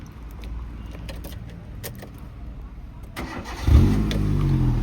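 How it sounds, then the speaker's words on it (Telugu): A 2008 Hyundai Santro Xing GLS petrol car starts up: quiet cabin ambience and light clicks give way to a short cranking burst, and the engine then settles into a steady, close idle. "ఇంజన్ ఆన్ చేస్తా."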